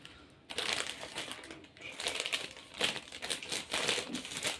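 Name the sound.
crinkling of biscuit snack bags being opened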